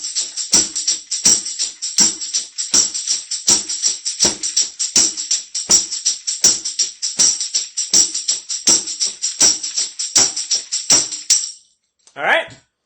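A second line drum beat played as an eighth note groove on a drum kit, with a steady ride or hi-hat wash over regular snare and kick hits, close and loud, ending with a brief voice.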